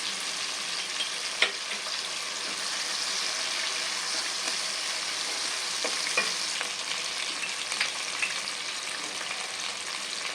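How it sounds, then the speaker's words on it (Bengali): Tomato and ginger paste fries in oil spiced with a tempering for a vegetarian jackfruit kofta curry, giving a steady, bright sizzle with a few sharp stirring clicks scattered throughout and no voices. "এর ভিতর প্রথমে ফোড়ন দেওয়ার পরে টমেটোটা দিয়ে দিলাম এবার আদা বাটা দিয়ে দিলাম"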